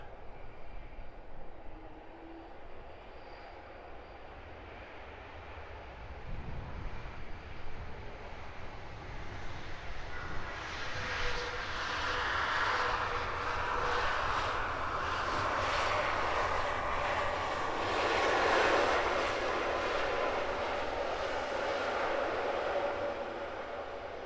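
A Wizz Air A321neo airliner arriving at Luton airport during reverse operations at sunrise, its engine roar building steadily from a distant rumble to a loud, broad sustained rush that peaks and lingers without any talk.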